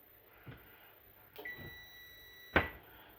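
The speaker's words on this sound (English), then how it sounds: "did you hear that? My oven is ready." Amid faint kitchen clatter, an electronic oven beeps: a brief tone, then a sharper louder beep a second later, both close by.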